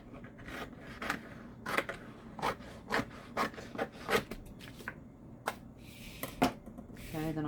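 Scissors snip away the excess edge of a sublimation paper wrap around a Dollar Tree tumbler, a series of close, crisp cuts and rustling paper in irregular rhythm, with no talking.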